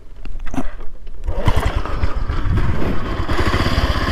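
A Bajaj Pulsar motorcycle, a 150 or 180 fitted with an oil cooler and a weak battery, kicks into life in gear, a brief cranking burst giving way to a steady, loud, close engine rumble.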